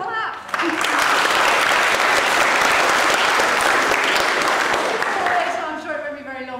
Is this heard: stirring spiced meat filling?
no